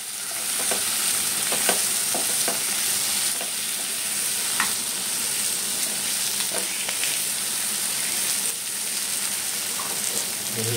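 Mutton liver (kaleji) frying in a pan, a steady dense sizzle with scattered clicks and scrapes of stirring throughout, close and continuous with no talk.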